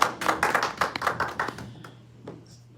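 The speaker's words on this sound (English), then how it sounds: "Clap for Jesus." A church congregation claps briefly in a quick burst of crisp claps that thins out and fades after about two seconds, fairly quiet and close.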